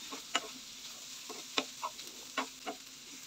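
Mashed potatoes go into frying chicken and get stirred, giving a soft sizzle under several crisp scraping and tapping strokes of the spoon.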